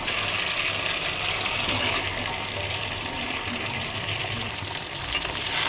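Potatoes and dried puti fish sizzle in a spiced curry of turmeric, salt and chili powder, a steady hissing fry, close and continuous with no voices.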